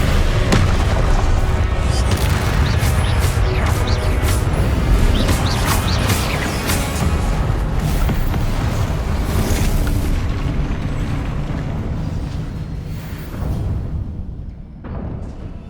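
Confringo fire spell blasts in Hogwarts Legacy, a loud run of booming explosions and crackling bursts that fade toward the end.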